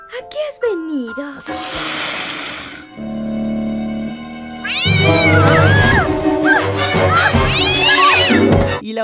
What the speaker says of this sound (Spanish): un gato poseído por la influencia maligna de la casa entra al cuarto de una medium y la ataca